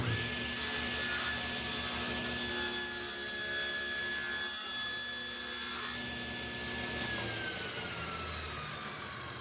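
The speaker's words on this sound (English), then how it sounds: "Set it back in our jig, lock it back down, turn the saw back on," Table saw cutting a taper on a wooden table leg held in a jig, a steady high whine with the blade biting through the wood, loud and continuous, easing slightly toward the end.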